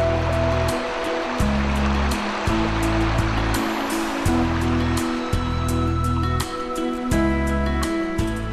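Continuous rushing and babbling of a mountain stream in the Bucegi Mountains, steady and close, with a layered tonal drone and occasional clicks over it.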